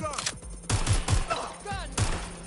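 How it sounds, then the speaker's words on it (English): Watch Dogs gunfire crackles in several sharp bursts across a short stretch, loud and close, with game voices faintly mixed underneath. "Incoming fire!"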